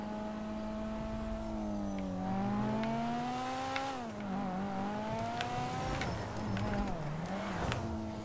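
The engine of a Pegassi Monroe sports car from the video game GTA5 revs continuously with a rear-mounted engine, its pitch rising and falling through repeated throttle blips, loud and steady, with faint talk underneath.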